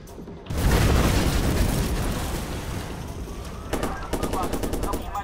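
A gas station blows up in the video game Watch Dogs: a loud, close explosive boom rolls into a long rumbling roar, followed by rapid bursts of crackling gunfire-like pops toward the end.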